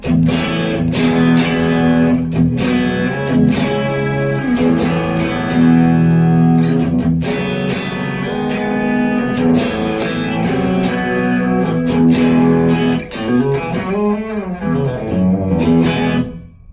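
An electric guitar plays through a JHS Morning Glory overdrive pedal, with chords and single notes in a lightly driven, gritty tone. The notes ring steadily and loud, and no voices are heard.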